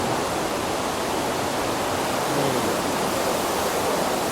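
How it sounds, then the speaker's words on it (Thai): A strongly flowing river rushes through the Aare gorge in Switzerland, a loud, dense, unbroken roar of churning water filling the scene with no voices. "แม่น้ำเยอะ น้ำไหลแรง"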